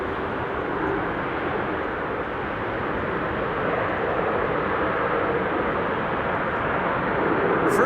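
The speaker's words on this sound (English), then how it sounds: "Reversers on the Transavia also deployed." A Transavia airliner lands at Amsterdam Schiphol with its thrust reversers deployed, producing a sustained broadband jet roar that stays steady and fairly loud throughout, slightly swelling toward the end.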